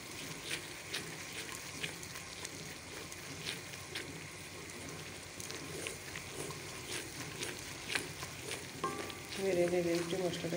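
Spice paste fries in a pan with a continuous, low-level sizzle and occasional stirring ticks. A brief tonal sound rises near the end.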